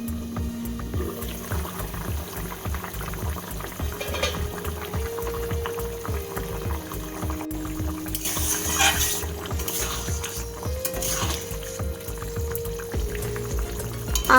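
Potatoes and ridge gourd simmering in water under a lid, a continuous bubbling boil with a low steady rumble and soft gurgles, close and even, with no one speaking.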